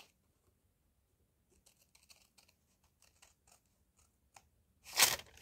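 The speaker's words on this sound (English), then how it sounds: "So now I'm going to cut out that piece. So right on the fold lines." Scissors cut an envelope along its fold lines during a craft project making a faux cutlery sleeve, a run of quiet, close snips ending in one louder crunching cut.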